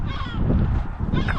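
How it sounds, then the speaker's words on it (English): Seagulls call while flying around their egg-laying area outdoors: honking, goose-like cries that rise clearly near the end over a steady rumble of wind and background noise. "We do have seagulls flying around."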